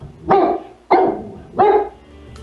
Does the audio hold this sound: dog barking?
yes